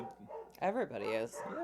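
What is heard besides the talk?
dogs barking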